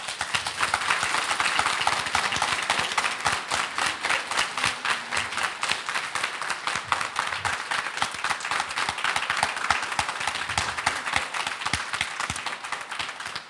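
Sustained applause from an audience at a school board meeting, many hands clapping in a dense, steady patter that fills the room for several seconds without pause.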